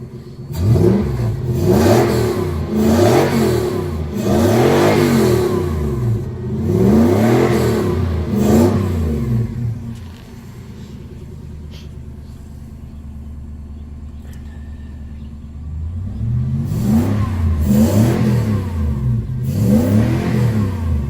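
A 3UZ-FE Lexus 4.3 V8 swapped into a 2003 Toyota Hilux 4x4 pickup idles with a deep rumble while warming up, repeatedly revved in rising and falling bursts, pausing to a steady idle before revving again.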